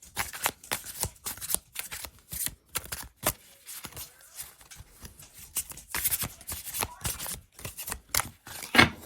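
A tarot deck is riffled and shuffled by hand, quick papery flutters and slaps in rapid uneven bursts, close up, with a short pause midway.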